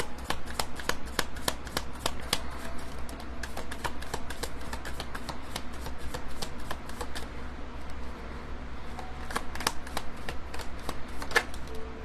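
Tarot cards riffled and shuffled by hand in a quiet room, a steady run of crisp, rapid flicking bursts at close range, with a short pause partway through before the shuffling picks up again.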